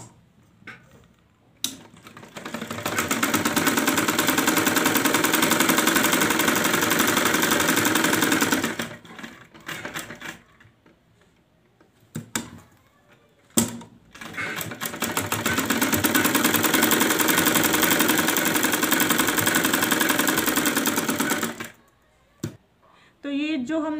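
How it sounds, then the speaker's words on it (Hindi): A sewing machine stitches old cloth into socks in two long, loud bursts of rapid rattling, separated by a quieter pause with faint ticks and handling sounds. "तो हम सिलाई लगाना स्टार्ट करेंगे।"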